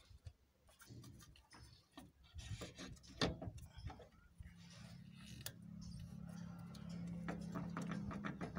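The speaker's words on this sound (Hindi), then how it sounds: "थोड़ा सा सैंड पेपर यूज करेंगे, सरसपत्ता जिसे बोलते हैं" Sandpaper rubs against the clutch housing of a TVS Ntorq BS6 scooter, giving close, irregular scratchy rasping strokes that continue over a low steady hum rising in the second half.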